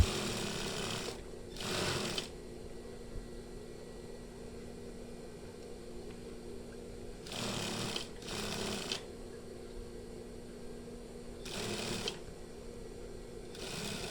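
A sewing machine stitches the body of a batik shirt in short, loud whirring bursts, pairs of runs separated by long pauses of faint room hum.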